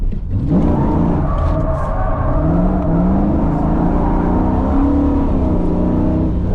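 A Chevrolet F-body car drifts down a mountain road at night, its engine revving hard and rising in pitch through the corner with a steady loud drone heard from inside the car.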